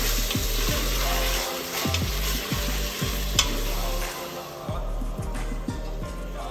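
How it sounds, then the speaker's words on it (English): Chicken livers sauté in an Instant Pot on its sauté setting, making a continuous close sizzle with scraping stirs and the pot's low mechanical hum underneath. There is no speech. "my instant pot at this point is on the saute option"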